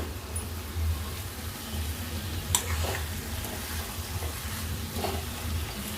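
A ladle gently stirs egg, potato and tomato curry in a hot pan, soft scraping and bubbling sizzle continuing steadily up close, with a few sharper clinks of the spoon against the pan.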